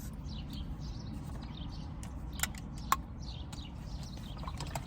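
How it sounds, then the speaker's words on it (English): Faint bird chirps flutter in the distance over a low outdoor rumble, with a couple of sharp clicks nearby. "Y'all hear the birds."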